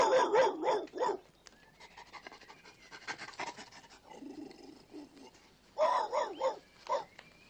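A dog named Rusty barks in rapid bursts of three or four loud yaps at the start and again at the end, with quieter rustling and scuffling in between.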